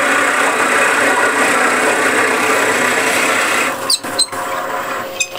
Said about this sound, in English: So before I start sanding, I'll just drill out. This is 20 mil Forstner bit.